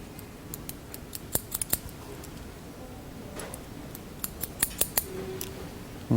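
Scissors snipping hair bangs during a women's medium-length layered haircut, a scatter of crisp, close clicks and snips, some in quick bursts, over a quiet room with no talking.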